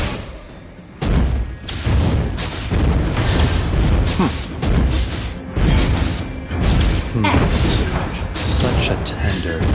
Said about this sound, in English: You destroy the turret!